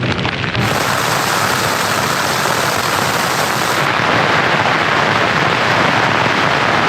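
Storm wind and heavy rain pounding a tent outer while camping in Scotland, a loud, relentless, dense roar of drumming and rushing noise held steady throughout without a break.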